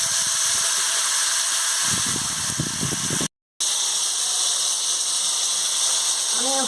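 Chopped vegetables tipped into hot oil with green chilli and whole-spice tempering, a broad steady hiss of frying running throughout with some clattering bursts early on and a brief dropout midway.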